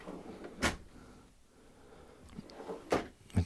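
A wide, self-closing drawer in a large 2021 Dethleffs A 7677-2 motorhome slides shut with a soft thud, followed by a few more quiet clunks of drawers and cabinet fittings in an otherwise hushed interior.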